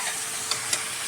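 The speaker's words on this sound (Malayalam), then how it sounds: "ഇങ്ങനെ ഇളക്കി കുറച്ച് നേരം നല്ലതായിട്ട് ഇളക്കണം" Chicken fries with shallots and crushed dried chilli in a steady close sizzle, with a couple of quick stirring scrapes over the hiss.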